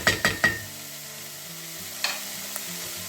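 Asparagus cooking in a pan for a cream soup, three quick spoon taps at the start, then a steady low sizzle with one more scrape and a faint tick, close and alone.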